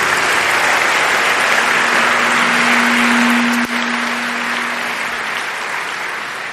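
A university audience at TU Berlin gives a hearty round of applause for the university president, the dense clapping steady and loud, thinning slightly toward the end, with a faint sustained hum underneath.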